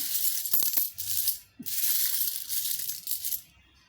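Old mixed Indian coins drop and clink, bright metallic jingling that runs almost continuously, with a short break midway and faint low knocks underneath.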